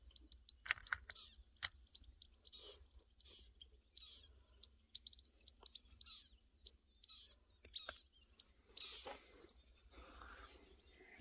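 Birds chirp repeatedly in quick, bright bursts, some close and sharp, others fainter, over a steady low hum with no talking.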